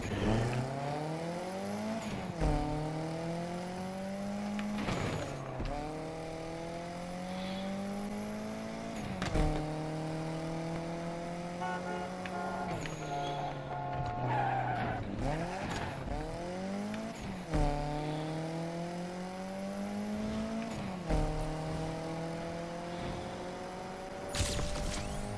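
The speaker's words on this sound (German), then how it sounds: "Fahre ich hier über die Autobahn ein Stück." A car driving fast on a highway in the racing game Need for Speed Unbound, its engine repeatedly revving up through the gears with sharp shifts, plus bursts of tire squeal and skidding, steady and close throughout.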